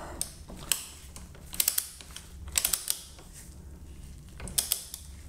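A torque wrench tightens Brembo brake caliper bolts on a Ducati Multistrada V4S. Soft, close mechanical clicks come in small clusters, three or four bursts over a few seconds against a quiet background.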